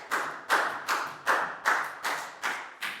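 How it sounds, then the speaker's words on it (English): Classroom applause for a student: eight evenly spaced claps struck together in a steady beat, close and crisp, with no talking. "a big round of applause for Bangpon, please, guys"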